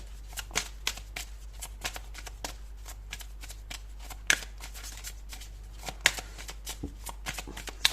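Tarot cards are shuffled right up close in a rapid series of crisp riffles and snapping card flicks, with a low steady electrical hum running underneath. No one speaks.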